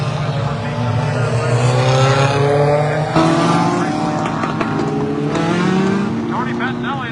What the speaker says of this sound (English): That is a nice looking car down there.